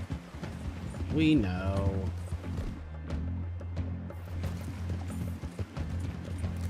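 Horse hooves clip-clop at a steady pace in Red Dead Redemption 2, a continuous rhythmic plodding heard throughout, with a brief whinny early on and a voice speaking over the top.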